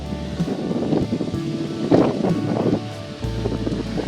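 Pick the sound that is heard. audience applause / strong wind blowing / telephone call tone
strong wind blowing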